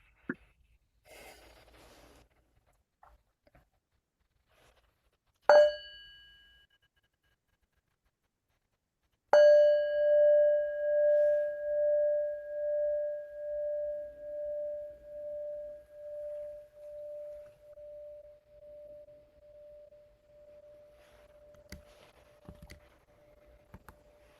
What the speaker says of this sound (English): Kayla, we'll listen to the sound of the bell first.